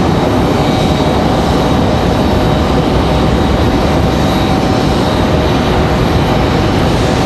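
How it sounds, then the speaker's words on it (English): Republic Airways flight 4630 from Pittsburgh, heard as a loud, steady broadband roar of jet engines with no talking over it. "this is Republic Airways 4630 from Pittsburgh"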